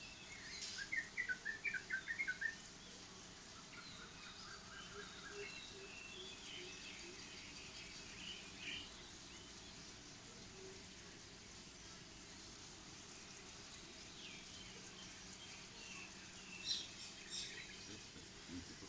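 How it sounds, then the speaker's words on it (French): Agitated birds in Thailand chirp and call in the morning, a quick burst of sharp tweets early on, then scattered calls over a steady background hiss, fairly faint and without talk. "Ils sont pour le moins énervés ces oiseaux-là."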